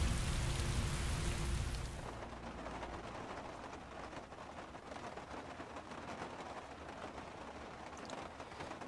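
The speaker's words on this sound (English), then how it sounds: "it sure rains a lot in this city" Steady rain falls in the video game Heavy Rain, a soft even hiss that runs on without a break, louder and fuller for the first couple of seconds and then settling to a quieter, constant patter.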